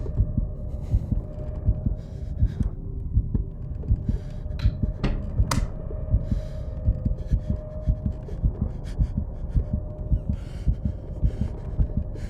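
A rapid, pounding heartbeat effect from the horror video game Call of Cthulhu thumps steadily throughout, loud and close over a low droning hum, with no one speaking.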